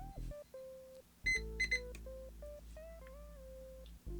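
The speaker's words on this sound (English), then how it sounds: "use a multimeter or a buzzer set just to kind of see what's happening here" A multimeter continuity buzzer beeps while the pins of a Nintendo 64 cartridge are tested during a repair, a series of short and longer steady electronic tones with a few quick higher chirps, quiet and close, no talking.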